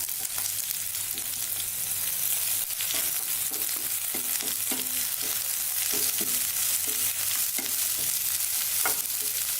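Green chillies sizzle in hot oil in a pan for cauliflower kurma, giving a steady close frying hiss with faint light crackles throughout.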